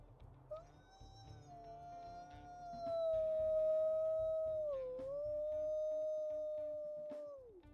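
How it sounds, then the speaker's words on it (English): A high-pitched video game wolf howl sustains for several seconds, wavering slightly, dipping briefly midway and then resuming before falling off sharply at the end, prominent and alone over faint ambience. "Oh, that's a really high-pitched one. Wow, so he's got some higher howls there."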